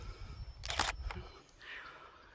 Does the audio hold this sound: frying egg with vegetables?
no